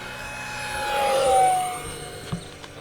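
An E-Flite Habu SS 50mm electric ducted fan jet flies past at full throttle, a steady whooshing whine that swells as it draws near overhead and then fades, with a couple of brief thumps near the end.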